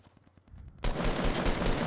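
Fortnite gunfire: faint distant shots at first, then a sudden loud burst of rapid, dense shooting that keeps going to the end.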